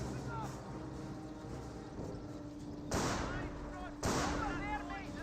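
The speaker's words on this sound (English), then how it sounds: "Sniper shots there." Sniper rifle shots in the World War II strategy game Company of Heroes, two loud sharp reports about a second apart standing out over a busy battle backdrop with steady engine hum.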